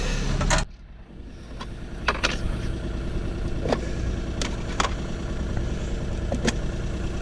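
Sailboat's engine idling and warming up, a steady low rumble with faint clicks and light knocks over the top, continuous and moderately close, no talking.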